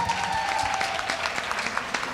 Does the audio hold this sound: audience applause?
yes